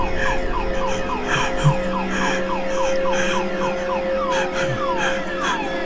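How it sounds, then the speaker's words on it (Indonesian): A car alarm wails in a steady, repeating electronic whoop, cycling rapidly and continuously at moderate loudness over a low background hum. "alarm mobilku berbunyi."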